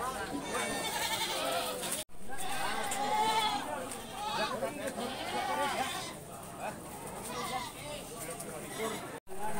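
Goats bleat again and again at a crowded livestock market in Wadaslintang, where animals are sold for the Qurban sacrifice. The close, wavering cries overlap with a steady murmur of people talking throughout.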